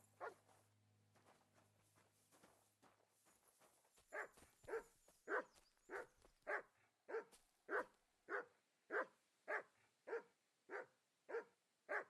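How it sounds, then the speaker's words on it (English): A dog in Kingdom Come: Deliverance II barks about a dozen times in a steady, evenly spaced rhythm, close and clear, after a few quieter footstep-like sounds. "Sit and bark."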